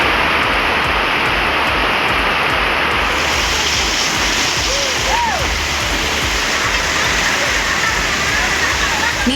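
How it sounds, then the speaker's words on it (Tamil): A broadband roar of heavy rain, loud and continuous, streams down during a storm with thunder, lightning and strong wind. A voice is briefly heard beneath it. "இடி, மின்னல், சூறைக்காற்றுடன் கனமழை கொட்டி தீர்த்தது"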